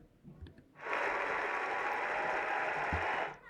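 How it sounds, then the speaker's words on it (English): Recorded applause sound effect played back during an online school celebration assembly, a steady burst of clapping about two and a half seconds long that cuts off cleanly, faint and slightly distant. "let's see if I can make the clapping work"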